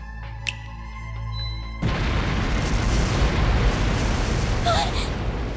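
Explosive artifacts detonate across a palace in the video game Trails through Daybreak: a tonal game sound cuts to a loud, sustained rumbling blast roar with a brief high whistle near the end.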